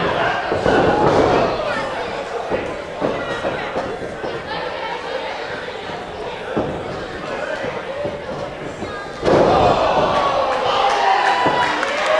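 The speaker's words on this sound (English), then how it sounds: "And the crowd's getting right behind Chris Basso" A wrestling match crowd cheers and chatters steadily in an arena, with a louder surge of cheering near the end while an announcer calls the action over it.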